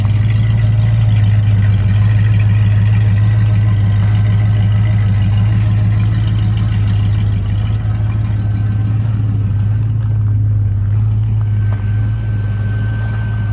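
A 1964 Ford Mustang with dual exhaust idles steadily with a low, even rumble, constant and close throughout.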